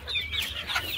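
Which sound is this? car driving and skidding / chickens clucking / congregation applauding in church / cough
chickens clucking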